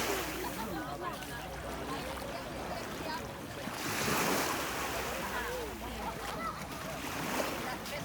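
Sea waves roll onto Albissola beach in Liguria, Italy, a soft, continuous wash of surf with wind buffeting the microphone and one swell breaking more fully midway. People talk quietly in the background.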